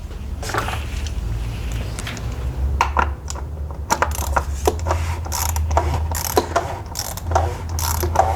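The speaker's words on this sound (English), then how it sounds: "first you can hand screw it back into its place and tighten it with the ratchet" A hand ratchet clicks in short repeated bursts while tightening the oil filter housing cover on a 2011+ VW Touareg TDI, the pawl clicks close and fairly loud over a steady low hum, with no speech.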